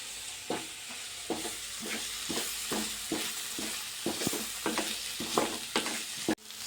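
Mushroom pepper gravy being mixed in a frying pan, a spoon scraping in a steady rhythm of about a dozen distinct strokes over a soft background sizzle, close and moderately loud, with no talking.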